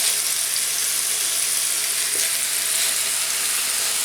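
Food on a mini plancha grill fries with a loud, continuous hiss, steady and close throughout with no pauses.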